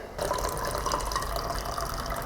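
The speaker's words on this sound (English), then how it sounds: "And there's the coffee from the French press." Coffee pours steadily from a French press into a cup, a continuous close liquid trickle and splash lasting a couple of seconds with no talking.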